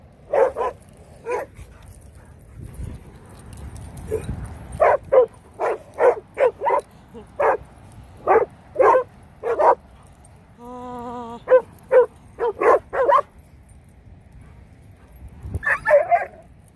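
Ridgeback dogs bark repeatedly in quick bursts, sharp and close, with short pauses between volleys and a brief whine-like tone in the middle.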